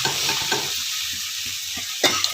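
Potato filling for aloo paratha roasting in a pan, with a light steady sizzle and repeated scraping stir strokes of a spatula, ending in a sharper clatter.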